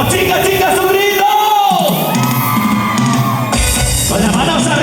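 Crowd of girls at a live concert anniversary show shouting, whooping and cheering together, a loud sustained roar of voices with rising yells, close and continuous throughout.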